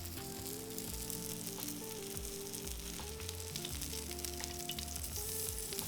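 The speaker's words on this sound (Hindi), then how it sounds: "सैलो फ्राई का मतलब ये है कि 1 फैट के अंदर ही हाँ। स्लो फ्लेम में पकाएं।" Food shallow frying in fat over a slow flame, a continuous close crackling sizzle with occasional stirring clatter and no talk.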